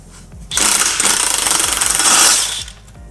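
A power tool with two extensions hammers loose the exhaust header bolts on a CB7 Honda Accord, a loud, continuous rapid rattling burst of about two seconds, close up, with no one talking.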